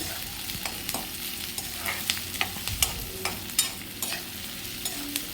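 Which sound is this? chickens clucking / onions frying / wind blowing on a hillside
onions frying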